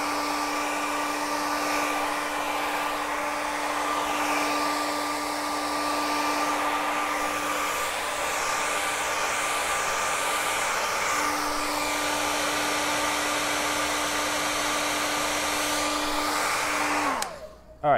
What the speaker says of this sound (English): And let me use the blow dryer